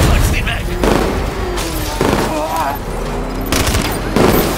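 Enemy gunfire rattles in Batman Arkham Knight, loud and dense bursts of shots and booms repeating throughout, with someone speaking over it.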